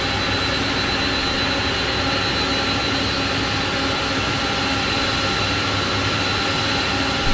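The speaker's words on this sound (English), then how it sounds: "Cockpit to ground. We have a good engine start." Airbus A300-600F jet engines run continuously in Microsoft Flight Simulator 2020, a loud, steady roar with a rattly whine and low rumble that holds without pause and without talk.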